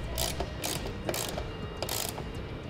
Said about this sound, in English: we can use our 10 millimeter socket and tighten it up